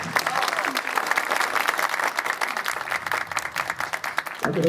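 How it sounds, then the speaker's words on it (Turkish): Dense, steady applause from an audience at the opening campfire ceremony of the Kula youth camp, honoring the Minister of Youth and Sports. The clapping fills the whole stretch and stops abruptly near the end. "Kendisine değerli bir alkış istiyorum size."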